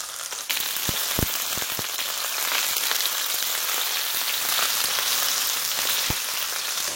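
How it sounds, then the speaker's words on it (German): Button mushrooms fry in a hot pan, giving a steady, even sizzle with a few sharper pops and crackles scattered through it. "Es können also alle braten."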